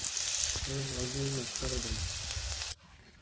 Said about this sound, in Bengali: ওই পাশে করলা আর আলু ভাজি করতেছে